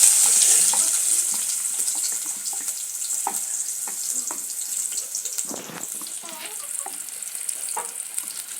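Fat frying in a pot during village cooking of cabbage with milk, with onions being added. A close, steady sizzle with light crackles runs throughout, and no one speaks.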